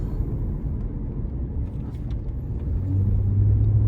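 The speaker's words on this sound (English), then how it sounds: "We're gonna do some turns, make sure everything's fine. I'm gonna brake again." A 2005 Chevy Equinox drives, turns and brakes, heard from inside as a steady low road rumble that grows slightly louder and heavier in the last second.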